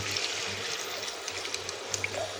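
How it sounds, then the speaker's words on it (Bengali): Water poured into a pan of cooking kuchia fish curry, a soft steady trickling and splashing over a low kitchen hum, with small bubbling pops. "এবার জল দিয়ে দিচ্ছি।"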